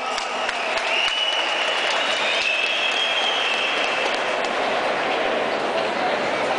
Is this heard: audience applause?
yes